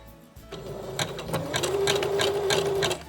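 A sewing machine zigzag-stitches thick rope for a rope bowl or basket, starting after a brief pause and running as a steady, close, loud mechanical whir with rhythmic needle clatter.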